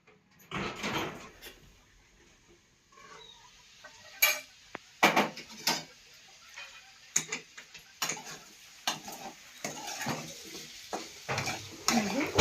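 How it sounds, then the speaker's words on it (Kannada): A plate is set over a pan of tomato masala frying for palya, with a string of sharp metallic clinks, taps and knocks at irregular intervals over a quiet background. "ಈಗ ತಾಟನ ಮುಚ್ಚಿಡೋಣ್ರಿ"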